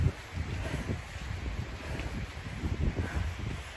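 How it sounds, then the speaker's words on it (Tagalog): Strong wind buffets and roars steadily with gusty low rumbling, no voices present. "Yung hangin is parang may bagyo."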